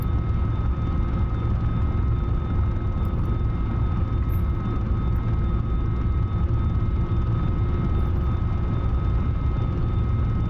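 A warplane's engine idles in the DCS flight simulator on a Normandy map, a steady, loud, unbroken drone with a low rumble and faint whine lasting about ten seconds.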